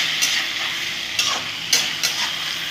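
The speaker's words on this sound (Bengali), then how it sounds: "একটু ভেজে ভেজে নেব।" Pieces of spiny gourd (kakrol) sizzle steadily in a hot pan with salt and turmeric, a soft continuous hiss punctuated by a few sharp stirring scrapes, close and moderately quiet.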